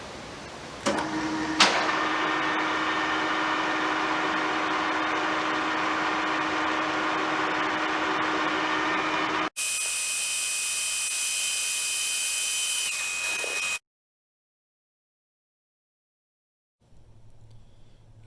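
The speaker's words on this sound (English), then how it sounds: "you all saw me operate the engine lathe" Engine lathe knurling a metal workpiece, a steady close machine hum with a grinding, whirring tone that shifts pitch partway, then cuts off into silence before a low rumble returns.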